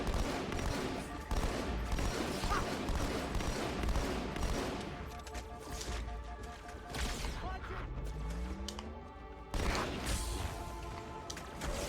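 Shotgun blasts in the shooter Halo 2 Anniversary, several loud booming shots spread across a busy firefight with clattering game effects and a falling whistle-like tone near the end.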